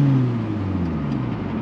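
A 2003 Pontiac Vibe GT fitted with a Vibrant resonator idles with a steady, low droning hum, heard close and continuous with no talking.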